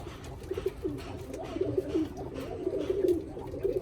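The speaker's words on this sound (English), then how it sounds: "now I have a pair of German owls right there" German owl pigeons coo in a loft, soft repeated throaty burbling calls overlapping at close range over a low background murmur.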